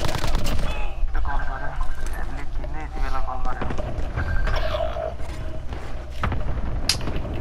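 Bursts of rapid XM4 rifle fire in the Warzone video game crackle through a busy, continuous mix of game sounds, with a person talking over the action.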